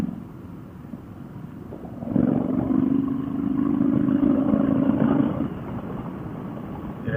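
A Triumph Speedmaster cruiser motorcycle runs steadily at about 70 mph and 3,000 RPM, its smooth engine drone swelling up over wind rush and then settling back, close and continuous.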